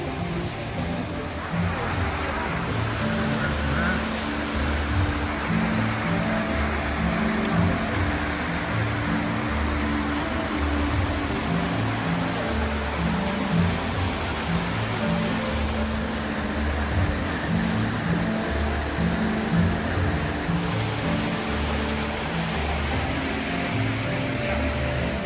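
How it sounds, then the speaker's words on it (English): Rushing water from the rapids below Tegenungan waterfall in Bali, a steady broadband roar that stays constant and fairly close throughout, with no break in the flow. "Little rapids coming around from the waterfall."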